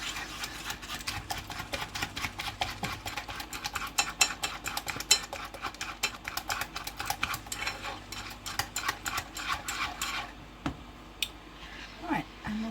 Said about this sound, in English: we'll just keep stirring that gently until it comes together